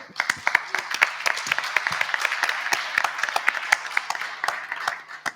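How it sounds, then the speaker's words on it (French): Applause at the official presentation of a heritage-building white paper (HERITECH 2021), many individual claps ringing out in a lively, fairly close patter that continues steadily throughout. "je vais vous demander de l'applaudir"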